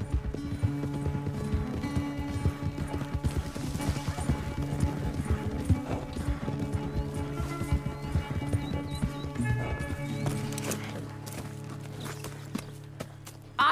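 Horse hooves galloping in the Red Dead Redemption video game, a steady fast clip-clop close by that carries on for most of the stretch before easing off near the end, with a brief whinny and no talk.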